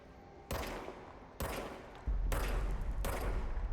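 Loud bursts of rapid automatic gunfire in the game Control come in four back-to-back volleys, each cutting off sharply before the next begins.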